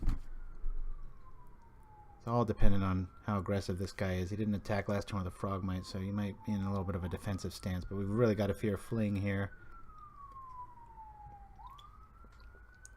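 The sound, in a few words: police or emergency vehicle sirens outside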